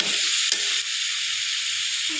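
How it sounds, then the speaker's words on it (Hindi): Potato, onion and turmeric powder being stirred in a hot pan: a steady, close sizzling hiss with faint scraping moments as the mixture is moved, and no voices. "और हल्दी पाउडर, और अच्छे से सब को चला दीजिएगा"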